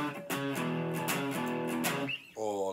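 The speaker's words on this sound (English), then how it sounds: "A guitar boogie is something that sounds like this." A guitar boogie riff played on guitar, steady and close, with a rolling rhythmic pattern of repeated chugging notes and no talking.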